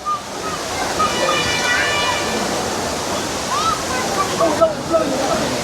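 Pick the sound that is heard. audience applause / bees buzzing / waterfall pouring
waterfall pouring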